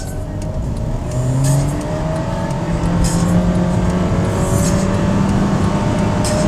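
Honda Fit RS with a CVT and 1.5-liter VTEC engine accelerating hard from a standstill, heard from inside as a loud, steady engine drone whose pitch climbs smoothly and holds high, with no talk over it.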